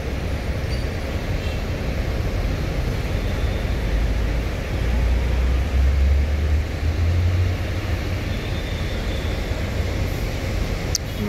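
Buses arrive at a busy bus stop, including a tronton-type coach, with a steady low diesel engine rumble that swells slightly midway as a bus draws near.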